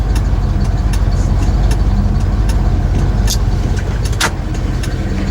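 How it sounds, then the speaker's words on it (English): Truck engine idling steadily with the headlights switched on, a continuous low rumble up close with a few light clicks and faint rattles over it. "Put my headlights on, hardly puts a load on the engine."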